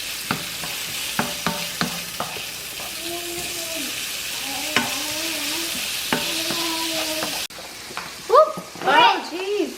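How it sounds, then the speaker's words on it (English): Bacon frying in a pan while cooking shrimp and grits, with a steady sizzle and crackle, repeated sharp clicks and scrapes of utensils, a brief hum of something else near the end, and no talk. "Putting on our bacon."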